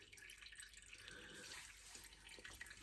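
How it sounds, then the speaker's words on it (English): Used engine oil draining from a BMW X6 M40d, a faint, steady trickle with light dripping, running continuously and quietly. "I'll just leave that to drain."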